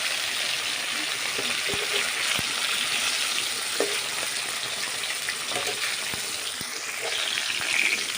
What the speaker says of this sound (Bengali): তো কড়াইতে আমি মাছটা ভাজবো